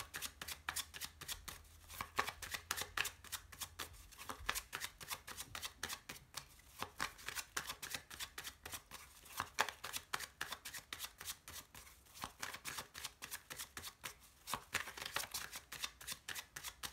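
Tarot cards being shuffled by hand, a continuous run of quick riffling taps and flutters that come in dense bursts for the whole stretch, close and fairly quiet.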